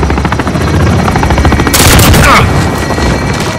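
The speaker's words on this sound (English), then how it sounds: "Allied chopper gunner arriving now." Helicopter rotor thumping mixes with rapid machine-gun bursts and booms from a chopper gunner in a Call of Duty-style first-person shooter, loud and dense throughout, with a sharp burst of fire near the middle.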